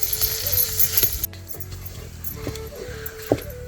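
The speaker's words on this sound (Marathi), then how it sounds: "आता बारीक करते मिक्सरला." A loud, high whirring kitchen mixer grinder grinds fried potatoes for about a second and stops abruptly, followed by scattered knocks and clatter.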